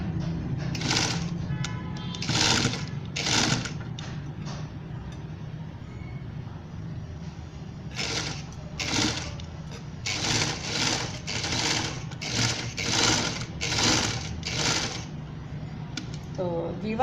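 A sewing machine runs in short bursts as it stitches the shoulder seam of a baby's party dress, and a steady low hum sits underneath, close and with no talking.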